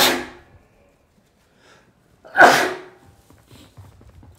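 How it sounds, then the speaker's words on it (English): Someone gives a single sharp, loud sneeze close to the microphone during a Warzone Mobile gaming live stream, with a brief breathy sound before it and near silence around it. "Sorry for my beautiful sneeze."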